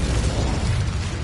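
Hogwarts Legacy's Incendio fire spell gives off a brief, loud burst of flame, a rumbling whoosh lasting just over a second.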